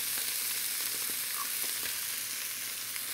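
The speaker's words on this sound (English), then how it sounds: "And we'll just stir that around a little bit just to start to caramelize the tomatoes somewhat in the bottom of the pan." Tomato paste and garlic frying in a pan, a loud, even sizzle with faint scraping stirs underneath, steady and close, no one speaking.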